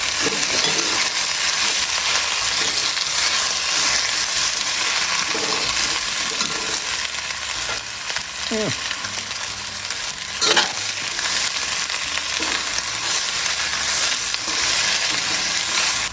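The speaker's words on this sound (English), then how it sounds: "We're gonna saute this for a minute." Shrimp soup ingredients, including deseeded chiles, sautéing in a pan on lowered heat: a loud, continuous hissing sizzle with occasional stirring scrapes, and no voices.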